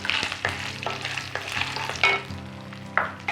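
Cashews, peanuts, garlic and curry leaves fry in hot oil for masala pori, a steady close sizzle with sharp scraping stirs recurring about every half second.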